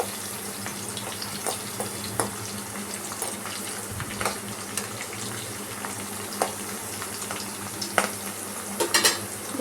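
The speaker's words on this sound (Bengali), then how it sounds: "এবার অল্প একটু নাড়িয়ে নেব।" A spatula stirs parwal (pointed gourd) curry with freshly added sugar in a frying pan, giving a steady close hiss of sizzling oil broken by scattered scrapes and light clicks against the pan, with no voices.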